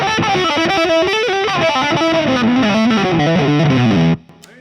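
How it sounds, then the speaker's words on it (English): A gritty electric guitar through a Petty John ODI overdrive pedal plays a descending run of chords and notes, loud and close, then cuts off abruptly leaving a faint hum. "this is an overdrive. It's not a distortion pedal"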